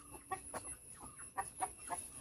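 A hen clucks in a series of short, rhythmic bursts, fairly close, with a faint steady background hum and no talking.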